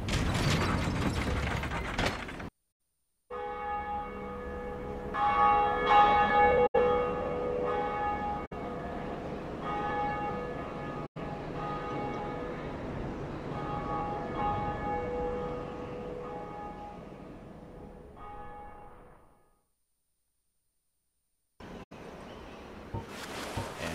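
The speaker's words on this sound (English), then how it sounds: "First bell of awakening rung." A large church-style bell in Dark Souls Remastered is struck, its rich ringing tone swelling and sustaining with mechanical clanks of gears and ratchets, then fading into silence before game sounds resume.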